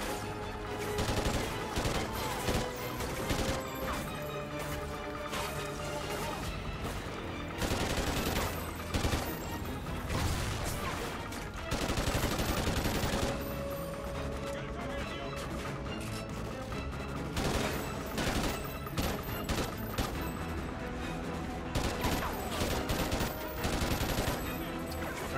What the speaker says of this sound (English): Lay down a spread of fire